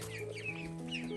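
Chickens on a rural Vietnamese farm, kept alongside ducks, cluck and murmur close by in a brief, fairly quiet burst, with a steady low hum running underneath.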